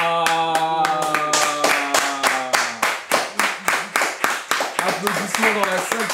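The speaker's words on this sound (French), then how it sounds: "Applaudissements dans la salle, tu as serré une main" A room audience claps in a steady rhythmic beat of loud, distinct hand claps after a handshake, with voices calling out over the clapping.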